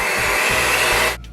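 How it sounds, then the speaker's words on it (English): Electric beaters whir steadily and loudly as they cream sugar and butter together in a bowl, a continuous close motor drone that cuts off abruptly near the end. "I used some electric beaters to mix the sugar and butter together."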